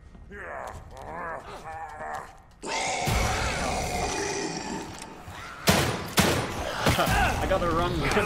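Gunshots from a gun in Evil Within 2, a few sharp reports cutting through a noisy horror-game scene with grunts and mechanical clatter, while a voice talks over the start.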